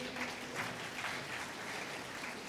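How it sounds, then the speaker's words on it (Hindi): Faint, steady clapping from a crowd at a devotional Ram Katha gathering, soft and distant with no voices over it. "तालियां अभी देवताओं की ओर से अधिक है"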